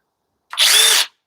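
A cordless hammer drill spins up alone for about half a second, a loud, high-pitched whirring motor burst that starts and stops abruptly after a short silence.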